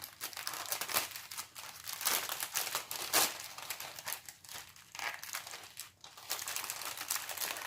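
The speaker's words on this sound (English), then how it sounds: "Let's get them out so that we don't have to listen to the packet rustling" A plastic packet crinkles and rustles steadily while Easter craft products are unboxed, close and fairly loud, with irregular bursts of crackling and a brief lull near the end.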